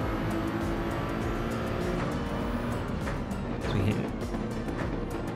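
Steady, loud engine drone of a Toyota Supra race car in a racing video game, holding a continuous roar at racing speed with a slight surge near the end.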